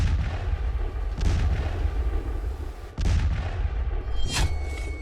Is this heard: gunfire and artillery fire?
yes